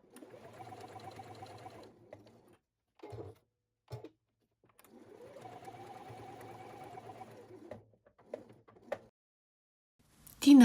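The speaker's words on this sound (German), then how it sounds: "Die Stoffe werden dann so aufeinander genäht." A sewing machine stitching layers of fabric for a crossbody bag runs in two steady bursts with short pauses. Brief handling clicks fall between the bursts, close and clear.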